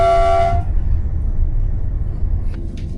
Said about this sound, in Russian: 3 часа на электричке это.